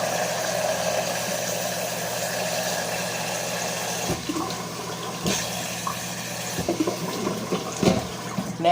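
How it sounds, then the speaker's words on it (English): Water poured steadily into a container to cover sterling silver, a continuous rushing pour that gives way to clinks and small splashes and handling sounds as the flow stops. "I'm going to need to add a little bit more water because it has to cover the entire surface."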